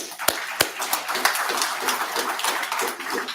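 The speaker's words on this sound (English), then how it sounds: "Applause for you." A small audience at a Houston police community meeting gives a brief round of clapping, with a few sharp, close individual claps standing out over a scattered, uneven patter.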